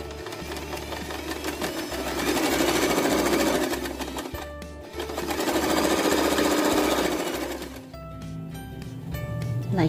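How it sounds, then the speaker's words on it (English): A sewing machine runs a regular stitch along folded fabric for a baby bow headband, a loud steady mechanical whir in two long bursts with a short stop between. "fold the fabric like this and sew here using regular stitch"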